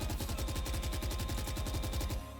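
Rapid automatic gunfire rings out on a video game practice range during recoil control practice, as one continuous loud burst of evenly spaced shots that stops near the end.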